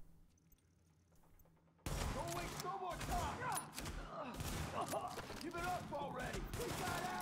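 After a quiet start, dense rapid gunfire erupts in the video game The Division and continues in sustained bursts with game-like effects, while a voice talks intermittently underneath.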